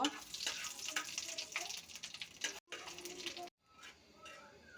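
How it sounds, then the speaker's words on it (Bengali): Black cumin seeds and dried chilies fry in hot oil in a pan, giving a steady, hissing sizzle that cuts out briefly twice, heard close and moderately loud. "কালো জিরা শুকনো মরিচটা একটু ভেজে নিলাম।"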